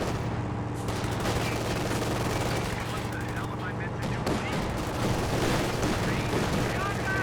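Gunfire and machine gun bursts from the World War II strategy game Company of Heroes 2 rattle on without a break for about seven seconds, with a steady hum underneath and faint talk mixed in.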